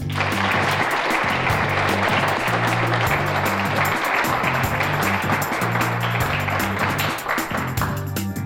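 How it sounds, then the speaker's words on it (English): Applause from an audience at a battalion cadet award ceremony, honoring award recipients; loud, dense and sustained throughout, with a strong steady tonal hum or music underneath and a slight dip near the end. "Please give them a round of applause"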